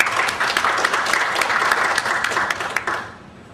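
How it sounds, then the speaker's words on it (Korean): A large conference audience gives sustained, dense applause after a healthcare presentation, a thick wash of many hands that holds steady, then fades out near the end. "다시 한번 큰 박수 부탁드립니다"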